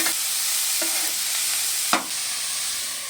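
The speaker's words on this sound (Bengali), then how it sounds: "খুব ভালো করে নেড়ে চেড়ে এটা ভেজে নেব।" Beetroot and carrot frying for vegetable chops, stirred in a pan with a steady hiss and a few scraping spoon strokes, one sharper clatter near the middle, no talk.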